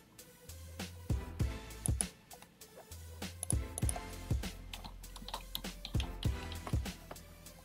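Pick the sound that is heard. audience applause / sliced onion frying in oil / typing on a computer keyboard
typing on a computer keyboard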